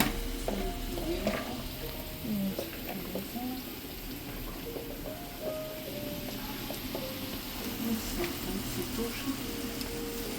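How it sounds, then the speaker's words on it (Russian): Onions stewing in a pan until golden give a steady soft sizzle with clinks of stirring, while voices talk intermittently over the cooking. "Тушиться лук до золотистого кольору."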